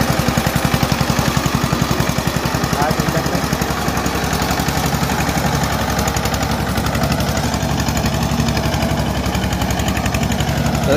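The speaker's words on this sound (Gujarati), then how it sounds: "અવાજ જોવો તમે ખાલી ટ્રેક્ટર નો" A homemade mini tractor engine running in a farm field, a loud, fast, steady chugging beat that continues unbroken for about eleven seconds.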